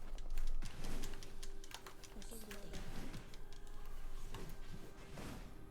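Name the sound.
cat sitting on computer keyboard pressing keys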